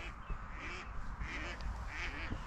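Birds, sounding like ducks or geese, calling in short quacking and honking bursts before a storm at a tent campsite in Germany, scattered calls over steady outdoor wind noise.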